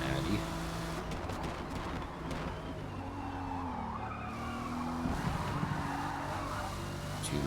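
Race cars in Forza Motorsport slide through a corner with steady engine drone, layered tire skidding and squeal that carry on for several seconds, with the engine pitch rising and falling throughout.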